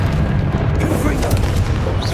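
A booming Confringo spell blast from Hogwarts Legacy erupts in a dense, loud rumble of explosive impacts, layered with a player shouting spell names over the chaotic battle noise.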